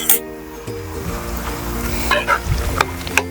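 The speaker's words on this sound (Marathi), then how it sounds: "झाकण न ठेवता आपण ही भाजी चार पाच मिनटं मस्त उकळू दिली आहे" Vegetable curry bubbling uncovered in a pan, with a steady close sizzle and a few light spoon clinks; no voices.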